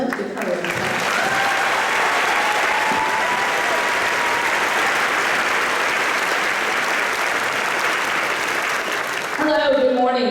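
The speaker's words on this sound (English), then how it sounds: "Let's give her a applause." An audience at a school district convocation applauds the KDA president in loud, steady applause that fills the room for about nine seconds before a voice begins speaking.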